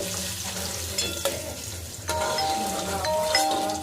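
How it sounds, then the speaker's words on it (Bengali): Paneer fries in a pan of oil and ghee with a little salt, a steady close sizzle with crackling bursts and a few utensil clinks and scrapes, no voices. "ওর মধ্যে সাদা তেল ঘি অল্প একটু লবণ দিয়ে পনিরটাকে আমি ভেজে নেব"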